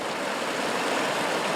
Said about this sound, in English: Here is Holy Ghost Creek